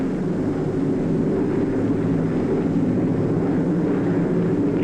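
B-17 bomber engines drone steadily in flight over Germany in 1944, forming a continuous, loud, low rumble with no breaks or voices.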